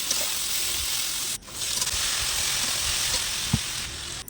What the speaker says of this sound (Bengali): এদিকে কড়ায় তেল দিয়ে আলুটা ভাজতে শুরু করলাম